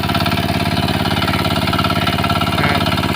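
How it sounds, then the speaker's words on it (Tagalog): A hand tractor engine runs steadily and loudly while the machine sits stuck in deep mud in a rice field during land preparation, with a continuous close chugging drone throughout. "lumubog na yung hand tractor natin"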